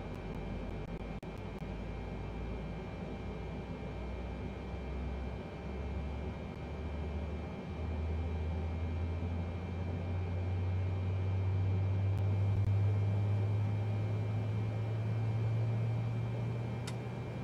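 A Boeing 777-300ER takes off from Kansai runway 32 right in Microsoft Flight Simulator 2020: a steady, loud engine drone that swells and deepens as the jet builds power, with no talk.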